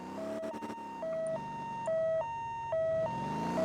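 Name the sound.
ambulance siren in MotorTown video game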